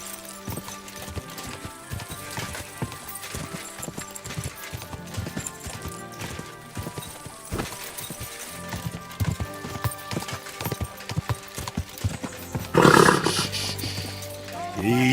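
Horse hooves clip-clop steadily in Kingdom Come Deliverance II, a close rhythmic clatter that runs throughout, mixed with game music, a voice and a louder burst of commotion near the end.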